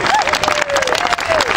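A crowd at an outdoor solar event in Kanawha Plaza, Richmond, Virginia, claps and cheers briefly for an installer, with a whistle-like tone sliding through the middle and voices mixed in.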